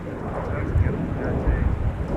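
A Delta CRJ regional jet lifts off at Minneapolis–Saint Paul airport in the evening, a low distant engine rumble buffeted by wind noise on the microphone.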